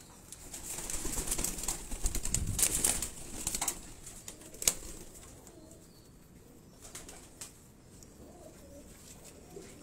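Rooftop pigeons in Lahore give soft cooing and a burst of wing flapping early on, then quieter scattered sounds and small taps, heard close and fairly faint without talk.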